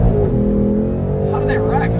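A 2024 Ford Mustang GT accelerates hard at a Cars and Coffee meet, its deep engine note droning loud and close throughout while people talk over it.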